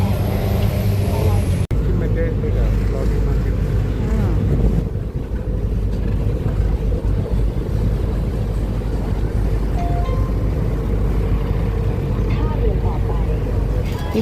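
A boat on the Chao Phraya river in Bangkok drones with a steady, loud engine and water rush, with wind buffeting and a voice talking over it.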